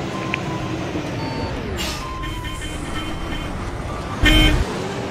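A KSRTC bus pulls away in Euro Truck Simulator 2 on the Thamarasheri Churam route. A steady, low engine rumble builds and carries a faint tonal whine, and a short, loud horn blast comes near the end.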